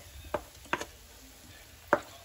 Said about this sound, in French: maintenant je vais les mélanger avec l'oignon